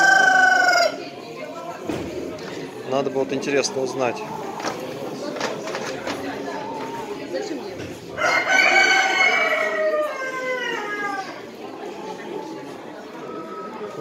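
An Orloff rooster crows loudly nearby, its drawn-out call rising over people talking, with other chickens clucking in the background.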